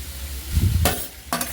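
Cooked vegetables and paneer stirred in a pan make two brief, close scraping strokes over a faint low sizzle, with a soft rumble just before the first stroke.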